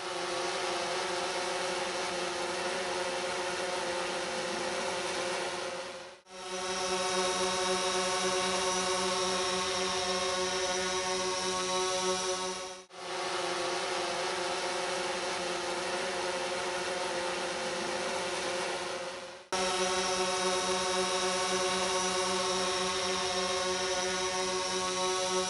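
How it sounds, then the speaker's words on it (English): A DJI Phantom 4 drone in flight gives a loud, steady, high-pitched propeller whine with layered tonal hum, broken by two abrupt momentary cutoffs before the same droning resumes. "the noise is something that I definitely feel is a little bit louder on that drone"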